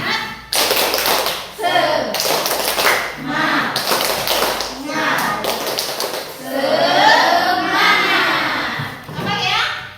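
Children in a group do a rhythmic patterned clapping chant, sharp bursts of claps in quick sequences broken by short pauses, with a chanting voice between the clap runs.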